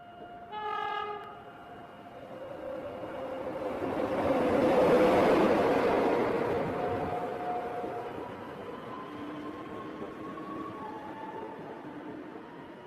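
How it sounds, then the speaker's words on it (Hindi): A cartoon train passes through a station, opening with a short horn blast and followed by a rising and fading rumble of wheels on the rails, with long tonal whistle-like notes drifting over it. "फिर थोड़ी देर बाद वहाँ से एक ट्रेन गुजरती है।"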